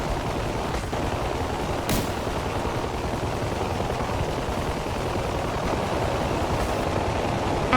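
A Huey helicopter fires on tanks in the DCS flight simulator, a continuous dense rattle of rapid gunfire and rotor noise at a steady level, with a couple of sharper cracks standing out.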